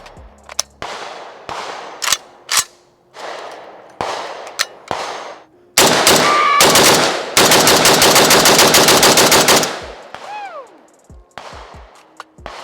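Loud, close bursts of automatic gunfire from an M70AB2 AK rifle, government contract model, on a range: several single shots, then a long sustained string of rapid fire, with ringing echoes and shell clatter after.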